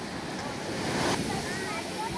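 Surf breaking steadily at Carrizalillo beach in Puerto Escondido during a children's surf contest, a continuous broadband wash that swells briefly near the middle, close and loud, with no voices.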